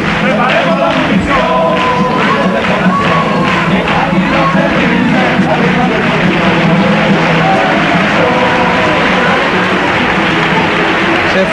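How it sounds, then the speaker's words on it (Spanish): Audience of the Gran Teatro Falla in Cádiz giving a big ovation after a carnival comparsa, a loud, dense crowd roar with cheering and applause sustained throughout, with musical tones showing through the noise. "con los aplausos del público del Gran Teatro Falle, después de una gran ovación"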